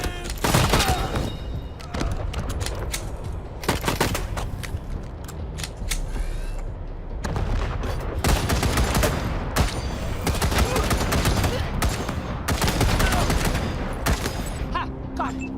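Gunfire in the post-apocalyptic game Wasteland 3, with repeated bursts and single loud shots in irregular clusters, near and sharp, under brief shouted voices.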